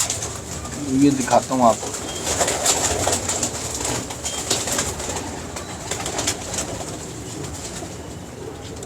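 Pigeons in a Lahore loft coo steadily over constant background noise and rustling, with someone speaking briefly near the start.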